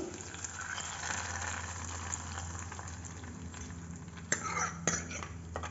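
A spoon stirs tomato dal in a pot over a steady low cooking hiss. A few clinks of metal against the pot stand out near the end, and a soft voice is heard faintly.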